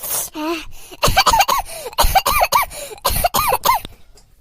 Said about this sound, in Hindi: हमारे ऐसे खांसी आवती भाई बहनी